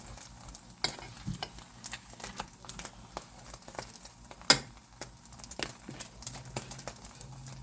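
Roti frying in a pan, a steady oily sizzle broken by scraping and crinkling stir sounds and a few sharper knocks, close up and continuous with no talking.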